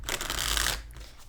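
Tarot cards are shuffled up close in a quick continuous riffling burst lasting under a second, then a pause and a soft tap.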